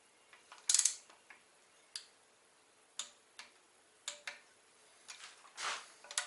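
Torque wrench ratcheting while tightening an oil cooler bolt on a car engine, a string of sharp, separate clicks at an uneven pace, close but fairly quiet, with no talking.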